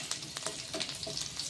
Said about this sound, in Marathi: यामध्ये आपण टाकणार आहोत लसणाचे काप केलेले आहे ते टाकणार आहोत